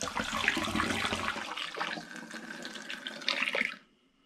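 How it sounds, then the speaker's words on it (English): Tea for homemade cranberry wine pours into a glass demijohn as a continuous gurgling splash of liquid, fairly close, then cuts off abruptly near the end. "So now it's just a case of pouring the tea into the demijohn."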